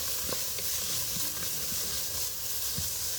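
Minced garlic sizzles in a soup pot with a steady close hiss, and a spoon scrapes and stirs through it in soft irregular strokes.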